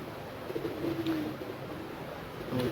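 A pigeon of a Punjabi fancy breed coos softly in a few low, short phrases, faint against a steady background hiss with no talking.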